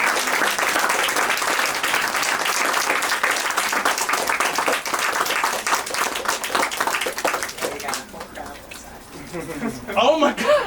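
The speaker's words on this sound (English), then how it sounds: "Give a round of applause for Dr. Lloyd James." A lecture-hall audience at a talk bursts into sustained, dense applause that holds loud for several seconds and then thins out, with voices and cheers rising at the end.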